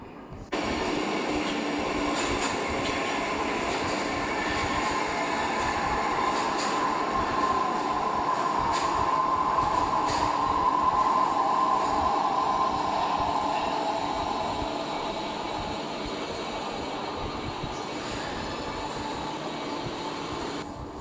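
A metro train rumbles steadily through Prospekt Pobedy subway station, a loud, continuous roar of wheels and carriage noise with faint squeals, swelling slightly mid-way and easing toward the end.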